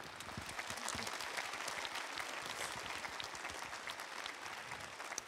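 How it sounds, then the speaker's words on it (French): An audience at a Toulouse Game Show conference applauds the American actor guests, steady dense clapping that stays even and continuous from start to finish. "Très bien, on peut les applaudir."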